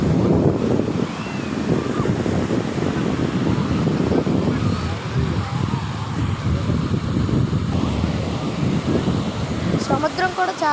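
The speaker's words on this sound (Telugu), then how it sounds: "సముద్రం కూడా చాలానే ఎక్కువ ఉంది." Sea waves roll in at Chirala beach, a loud continuous wash of surf mixed with heavy wind buffeting the microphone, with a voice speaking over it.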